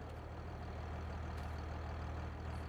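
A truck engine idles in Farming Simulator 22, a steady low rumble that holds evenly and fairly loud throughout, with no talk over it.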